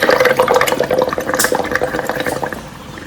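Water gushing from a pull-and-release device, a loud close rush of flowing water that holds steady for a couple of seconds before easing off.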